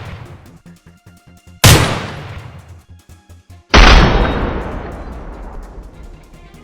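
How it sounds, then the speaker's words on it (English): Two loud, close gunshots ring out during a wild boar hunt in an oak forest, each with a long fading echo, over a faint rhythmic ticking background. "We fired off a flurry of shots."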